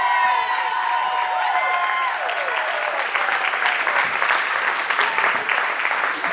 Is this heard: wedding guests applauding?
yes